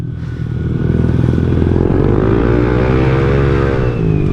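A Yamaha Aerox SP scooter engine revs hard, then drops into engine braking and downshifting, loud and close, with a steady droning tone that bends and shifts in pitch across the run, and no talking.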